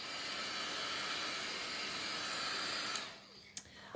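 Air blows alcohol ink around on a card in a continuous close hiss for about three seconds, then cuts off, leaving a quieter room with a couple of small clicks.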